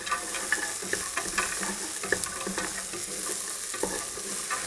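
Cashews and onions sizzle and fry in a pan while being stirred, steady hissing with scraping and clinking of the utensil, fairly quiet and close, with no talking.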